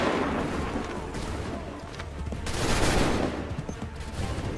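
Musket volleys boom and crackle in a battle scene from the video game Assassin's Creed III, a dense, loud, sustained barrage of overlapping shots that swells near the middle.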